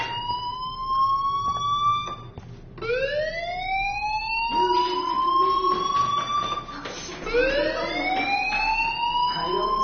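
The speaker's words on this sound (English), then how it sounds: "Hey, do you hear that fire alarm?" Fire alarm in a video game, a repeating electronic siren whose rising sweeps restart every couple of seconds, ringing fairly loud with a low, faint background beneath.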